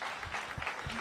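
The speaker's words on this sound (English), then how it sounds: "Give Tom a big round of applause." A crowd at a DC crime summit keeps up steady, moderately faint applause that blends into a continuous wash of clapping.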